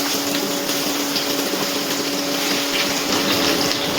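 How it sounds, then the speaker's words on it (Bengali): Sliced ridge gourd sizzles in hot oil with nigella seeds, a steady, loud, even hiss of frying that carries on without a break and with no voices. "এবার দিয়ে দেবো যে ঝিঙেটা আমি কেটে রেখেছিলাম, সেই ঝিঙেটাই দিয়ে দিচ্ছি তেলের মধ্যে"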